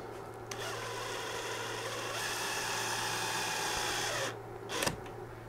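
A power driver sinks #4 by 3/4 inch flathead wood screws into a board while squaring it on a laser machine frame, a sustained close whirring drone that cuts off abruptly, followed by a short clatter.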